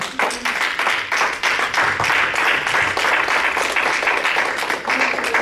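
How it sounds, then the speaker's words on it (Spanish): A church congregation claps for the Lord during a Spanish-language sermon on the kingdom of God, giving lively, dense applause with quick uneven hand claps that stay loud and close throughout. "¿Cuánto le da un aplauso al Señor?"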